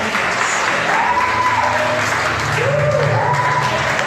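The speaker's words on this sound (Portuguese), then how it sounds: "Aplauda o Senhor pela vida da Amanda." Church congregation at a family service clapping steadily for Amanda, a continuous wash of applause with a sustained tone and some voices underneath.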